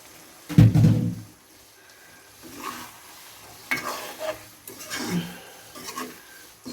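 Fish fries in hot oil in a pan, opening with a loud burst as it goes in, then quieter sizzling interrupted by several stirring and scraping bursts at close range.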